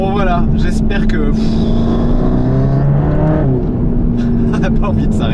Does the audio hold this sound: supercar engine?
yes